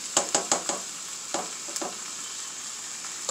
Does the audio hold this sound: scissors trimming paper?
no